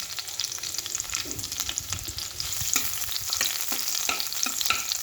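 Tomatoes fry in a hot pan with a steady, close sizzle, broken by sharp clicks and scrapes as they are stirred, and no voices.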